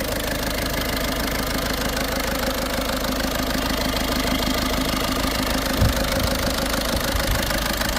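A Skoda car engine with a serious fault runs loudly and steadily at idle with a rough knocking texture, and a single dull thump lands near the end.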